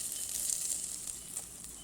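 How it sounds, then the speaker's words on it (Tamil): Drumstick leaves, onion and garlic sauté in a pan with a steady, soft, continuous sizzle, close up and with no talking. "கீரை, வெங்காயம், பூண்டு நல்லா வதங்கணும்."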